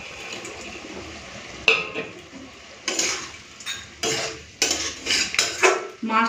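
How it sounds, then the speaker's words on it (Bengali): Fried amodi fish being stirred into a spicy curry with Kashmiri chilli powder and sugar in a pan, with several sharp metal spoon-on-pan scrapes and clinks coming in bursts, close and moderately loud, with no talk. "মাছটা দিয়ে মিশিয়ে নিলাম"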